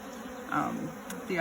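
Honeybees hum in a steady, close drone around an open hive during an inspection, with slightly louder swells near the middle and end.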